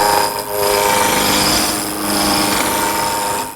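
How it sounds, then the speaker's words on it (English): A wood lathe spins a cherry blank while a spindle roughing gouge knocks off the corners, making a loud, continuous rough cutting and rumbling noise that swells and dips slightly across the few seconds, with no talking. "Just use the spindle roughing gouge"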